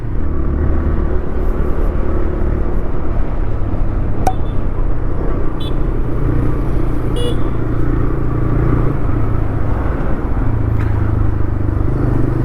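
A TVS Raider 125cc commuter motorcycle being ridden on city roads, its engine a steady, loud rumble with constant road and wind noise throughout, and a faint horn toot briefly in the distance.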